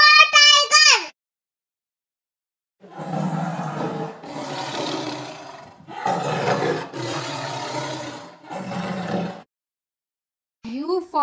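A deep, rough tiger roar sounds in several long bursts between short silences, with brief sung children's phonics voices at the start and end.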